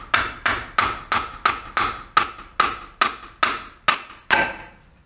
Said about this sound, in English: put my regular wrench on there and take a rubber mallet